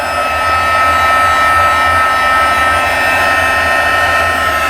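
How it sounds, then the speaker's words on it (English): A heat embossing tool blows a loud, steady whirring roar without pause as it warms up to melt embossing powder, close up and with no voices. "Then I'm going to grab my heat tool and I'm going to let it warm up just for a minute."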